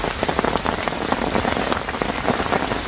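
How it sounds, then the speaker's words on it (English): Heavy rain falls steadily on the surface around an estate lake fishing spot, a loud dense patter close to the microphone with no voices. "Well, as you can hear and see, the rain has certainly kicked in."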